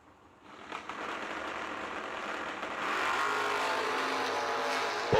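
At the green flag of a handicap drag race, a pickup and a race car launch with a sharp rise of engine roar that builds into a sustained loud rev, heard at some distance without commentary.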